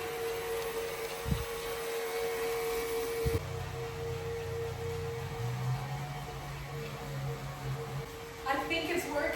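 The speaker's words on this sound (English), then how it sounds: "Just me and my vacuum restoring that wood." A vacuum cleaner runs steadily on a wood floor in a home, a constant moderate hum and hiss with a few bumps and a clatter near the end.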